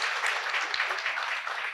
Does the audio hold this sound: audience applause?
yes